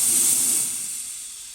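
An espresso machine's steam wand blows into a jug of milk, a steady close hiss that starts strong and slowly eases off.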